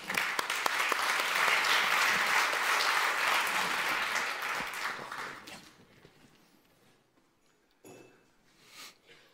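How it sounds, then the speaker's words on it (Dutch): Warm audience applause welcomes a guest at a public talk event in Amsterdam: a dense, steady ovation that holds strong for about five seconds, then thins and fades to scattered claps and quiet room noise. "Geef hem een warm applaus."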